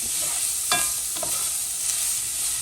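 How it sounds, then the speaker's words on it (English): Onions stirred into a sizzling roux for crawfish stew, a steady loud hiss of frying with a few soft scraping stirs of the spoon against the pot, close and without talking. "And you just stir those onions in"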